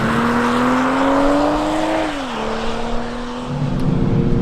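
A 2022 BMW M240i xDrive's engine hums steadily from inside the car as it drives on a road, its pitch rising gently, dipping as a gear changes, then climbing again over road and tyre noise.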